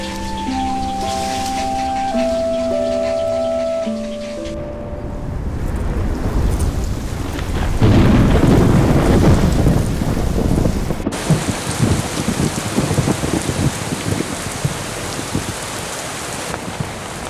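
Steady heavy rain with thunder rumbling, loud and continuous near a river by a village hillside heron nesting site, with no voices.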